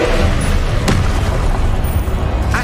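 Booming spell explosion from the Confringo curse in the Hogwarts Legacy video game, a loud dense blast with a sharp burst near the start, rumbling continuously under heavy low-end noise.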